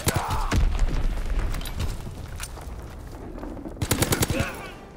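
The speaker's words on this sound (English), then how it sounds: "Popping Fritz X bomb." Explosive booms and rapid gunfire from a Fritz X bomb strike in a multiplayer shooter, heavy impacts and rattling bursts near and loud, with muffled voices mixed in.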